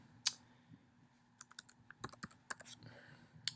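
Someone types a short entry on a computer keyboard, with sparse, light key clicks coming in small irregular clusters, close and quiet against a faint hum, with no talking.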